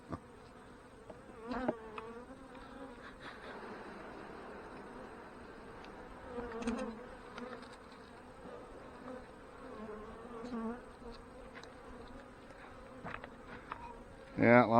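Honey bees swarm around an open hive during a late-season fireweed honey harvest, a steady close buzzing with individual bees zipping past, and a few brief words spoken under it.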